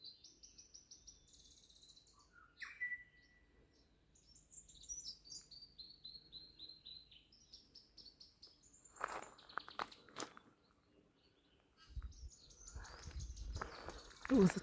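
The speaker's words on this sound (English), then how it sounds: "Don't know if you can hear the birds." Birds singing along a coastal hiking track in New Zealand, including tui, with bright whistled phrases and chirps fairly near, then footsteps crunching and brief rustling later.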